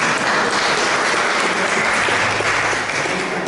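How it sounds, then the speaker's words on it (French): An audience at a twinned-towns gathering in Auxerre applauds architect Annick Vorobel of the Atria Architecte firm with steady, close, evenly dense clapping throughout. "que l'on applaudit également."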